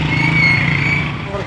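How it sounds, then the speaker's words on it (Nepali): An old motorcycle engine roars loudly and steadily at close range, holding a constant droning pitch throughout. "साह्रै करायो तेरो बाइक।"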